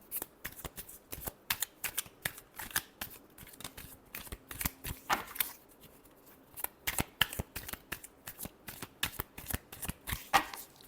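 A deck of tarot cards is shuffled over and over. The riffles come as a fast string of crisp, close, papery flutters with short pauses between them, and no one speaks.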